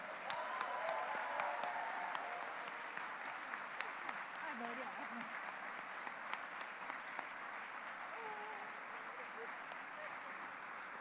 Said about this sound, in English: please, let's give a huge standing applause for Ms. Marisol Somerville